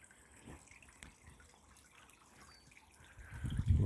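Water trickling in a British garden pond, a faint, steady dribble with soft drips that grows louder and fuller in the last half second.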